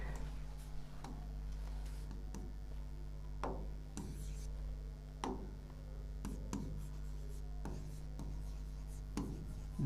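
Pen scratching out a definition by hand, a soft steady scraping with repeated sharp stroke ticks spread across the stretch, close and quiet over a low constant hum.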